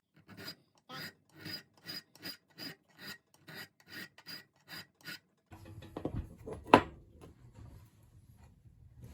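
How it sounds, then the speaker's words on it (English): Steady rhythmic rasping of a file dragged across a metal edge to flatten it as a ferro rod striker, about a dozen even close strokes, then scraping and handling noise. "most of the filing can be done by just hitting it on this top edge"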